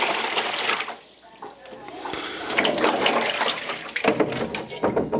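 Tap water runs and splashes into a big plastic tote being filled for a vinegar soak to strip rust from a BSR cast iron skillet, a steady close rushing pour with a brief dip partway through.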